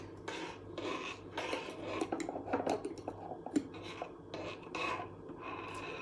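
Close, soft scraping and rasping of a utensil stirring aloe vera chia seed pudding in a pan over a low flame, with irregular strokes and light clinks against the metal.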